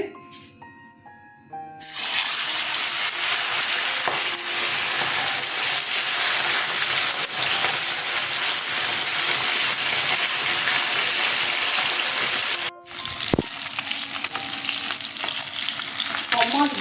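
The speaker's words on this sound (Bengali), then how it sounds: "এদিকে তেল গরম হয়ে গেছে মাছ তুলে দিচ্ছি" Bata fish dropped into hot oil sets off a loud, continuous close sizzle that starts abruptly after a short quiet lead-in and holds steady, briefly cutting out near the end before resuming.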